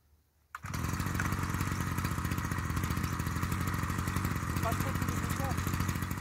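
A PF400 earth auger engine starts up and runs steadily and loudly while drilling holes in a field, a continuous buzzing two-stroke drone that holds even throughout.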